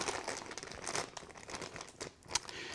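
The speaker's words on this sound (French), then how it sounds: "on va ouvrir le sac." A plastic fish transport bag is crinkled and pulled open up close, a run of irregular crackling rustles with a sharp crinkle near the end and no talking.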